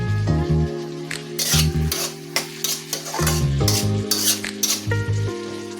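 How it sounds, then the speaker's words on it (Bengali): A spoon scrapes and clatters against a pan while food cooked with turmeric powder is stirred, in repeated bursts of metallic knocks over a low, steady sizzle. The sound is close, and nobody talks. "ভালোভাবে নাড়াচাড়া করে নিই"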